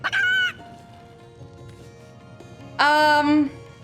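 A chicken in Divinity: Original Sin gives two loud, close squawking clucks, one at the start and another after a quiet stretch, over a low murmuring game background.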